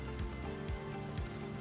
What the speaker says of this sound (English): It's not raining hard